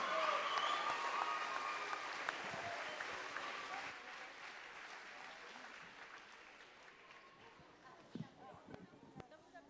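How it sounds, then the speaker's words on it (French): An audience at a New Year's greetings event applauds the singers with sustained, dense clapping that slowly tapers off, heard from within the room, with a voice over it near the start. "On peut les applaudir très,"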